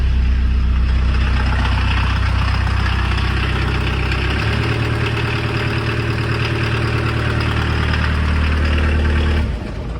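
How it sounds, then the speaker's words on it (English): A used Volkswagen car's engine idling slightly high, a loud, close, steady hum with a low drone that shifts in tone midway and drops off near the end, no talk. "The idle's a little bit high"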